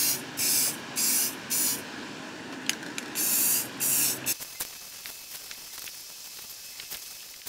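Spray primer is applied to O scale model ticket booths in short bursts, about six hissing sprays in a broken rhythm with brief pauses, then light clicks and handling noises as the spraying stops.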